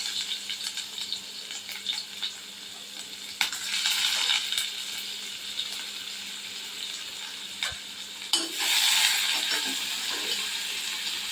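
Onion sizzles in hot oil with lentils, garlic and asafoetida in a tempering, a steady close frying hiss broken by a few clinks and stirring scrapes.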